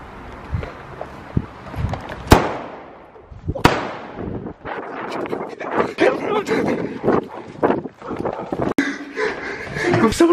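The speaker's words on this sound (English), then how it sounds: "I lit four at once. I think only two blew up, but that was insane." Four firecrackers tied together and lit at once go off outdoors as a few sharp, loud bangs spread across the clip, with excited voices, shouts and movement noise between the blasts.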